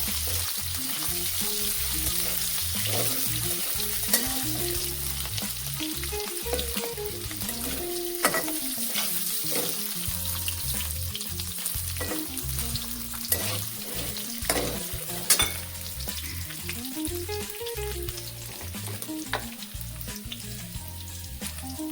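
Potatoes frying in hot oil in a pan for sabudana khichdi, a loud sustained sizzle with crackling pops and scattered stirring scrapes throughout, no talking.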